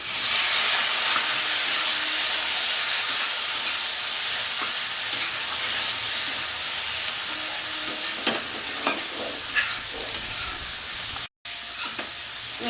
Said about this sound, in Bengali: মশলাটা ভাজা ভাজা হবে